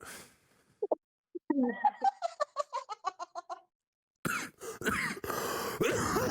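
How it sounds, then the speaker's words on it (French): A person coughs repeatedly after vaping in a rapid burst of short, harsh hacks, close to the microphone, followed by rustling and handling noise. "Ouais, ça me fait toujours tousser."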